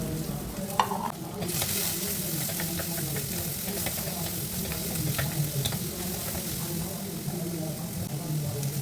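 Small shallots and a sliced onion sauté in hot coconut oil in a pan, giving a continuous loud sizzle with occasional light clicks and scrapes of stirring throughout.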